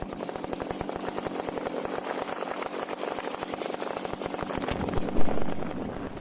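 A paramotor engine runs steadily in flight with a fast, buzzing pulse, droning continuously at a constant pitch and swelling briefly near the end.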